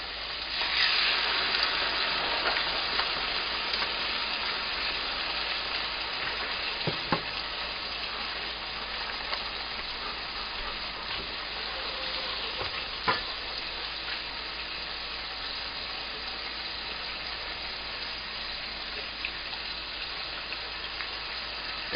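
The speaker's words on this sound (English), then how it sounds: "we're going to take our steaks, make sure they get a liberal amount of mustard maple coating. We're going to get a good sear on all sides here." Steaks coated in a mustard maple glaze sear in a hot pan, giving a steady, loud, close sizzle that holds for over twenty seconds with a few faint clinks and shifts, and no voices.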